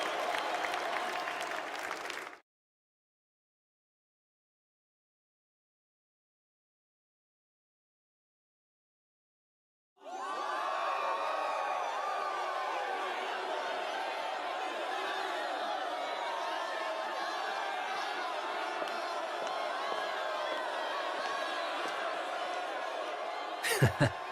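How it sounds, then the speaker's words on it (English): A crowd in the video game Metaphor: ReFantazio bursts into sustained loud applause and cheering after a song, continuing steadily for over ten seconds following a brief clap and a stretch of silence. "Why are you surprised by the clapping, Will?"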